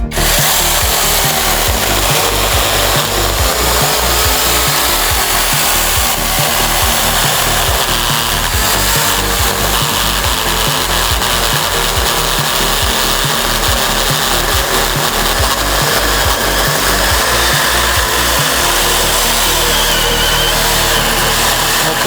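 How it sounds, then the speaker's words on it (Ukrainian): A Procraft electric chainsaw cutting through a thick piece of wood, a loud, continuous, rough buzzing and rasping that runs steadily for the whole stretch, close up and without talk. "Пиляє вона впевнено, скажу я вам"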